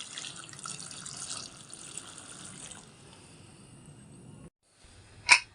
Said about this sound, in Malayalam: ഇനി ഇതിലേക്ക് ആവശ്യമുള്ള വെള്ളം ഒഴിച്ച് കൊടുക്കുന്നുണ്ട് കേട്ടോ